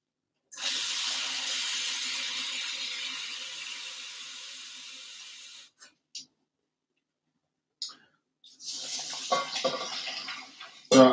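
Water poured from a kitchen tap into a pot for cooking rice, a steady rush for several seconds, then stopping, followed by a few clinks and another short splashy pour with brief handling sounds.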